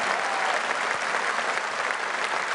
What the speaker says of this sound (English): I just want to take 2 minutes and give this man a round of applause.